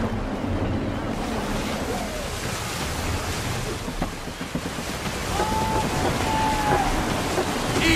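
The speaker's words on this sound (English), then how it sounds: "Gusty winds can be difficult to manage." Gusting wind and breaking waves surround a sailing ship in the Assassin's Creed 3 video game, a continuous rushing wash with rising swells and faint creaks or calls near the end.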